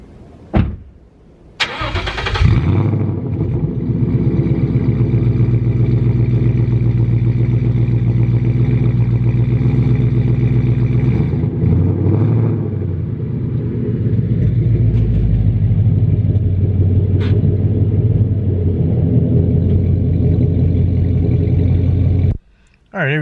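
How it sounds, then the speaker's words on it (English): Ford Mustang fitted with a new loud exhaust, starting up with a sharp bark, then a deep, throaty idle and light revs, loud and close, ending with a sudden cutoff. "gotta go ahead and get down off the ramps and let you guys hear what it sounds like."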